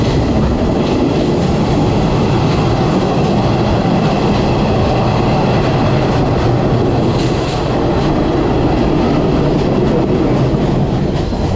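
Loud, steady rumble and rattle of a moving train in Sri Lanka heard from inside the carriage, a dense continuous roar of wheels and cars without talking.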